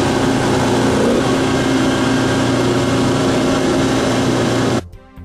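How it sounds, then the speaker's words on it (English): King Cobra KC1200 Pro carpet extractor with its 1200 psi high-pressure pump, vacuum and dump pump running, a loud steady motor roar and whine that holds for about five seconds before cutting off abruptly. "We'll turn our 1200 psi high pressure pump on."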